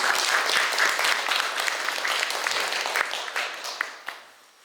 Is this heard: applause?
yes